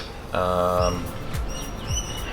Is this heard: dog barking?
no